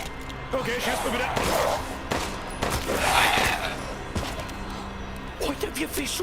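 Bursts of rapid gunfire in Resident Evil Village crackle across the clip, with excited voices talking over the shooting throughout.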